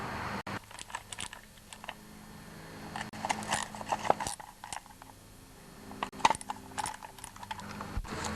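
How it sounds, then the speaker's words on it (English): Repeated small metallic clicks and taps from a wrench or socket working loose the 1/4 inch bolts on a Briggs & Stratton 5 HP engine, coming in irregular bursts at close range, with quiet gaps and no talk. "loosen all the 1/4" bolts inside of here"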